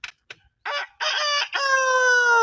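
A person imitates a chicken with clipped clucks that rise into a long, loud crowing call, close to the listener.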